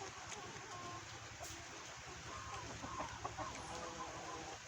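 Chickens cluck in a steady, noisy outdoor scene, soft scattered calls running throughout over constant background hiss.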